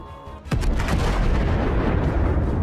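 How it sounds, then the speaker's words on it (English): Russian Msta-S self-propelled howitzer exploding along with its ammunition, a sudden loud blast followed by a sustained roaring, rumbling burn that fills the rest of the moment. "A powerful explosion."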